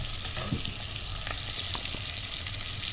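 Onions frying in fat in a pot for Egyptian mahshi, giving a steady close sizzle with faint stirring clicks and no talking.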